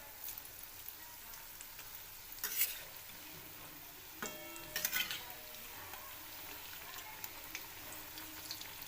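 Bhaji fritters fry in hot oil with a soft, steady sizzle, broken by a few brief scrapes and clinks as they are turned, quiet and close.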